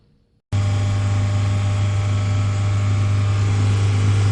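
A 2.4-liter Honda Accord engine, which has an idle air control valve surging-idle fault, starts abruptly and holds a loud, steady hum at about 3,000 RPM, close to the microphone and alone.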